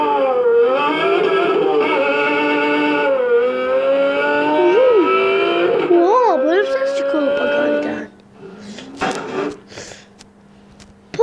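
A Pagani Zonda sports car's engine revs loudly, its tone rising and dipping in several throttle blips before cutting off abruptly, leaving quieter scattered noises behind.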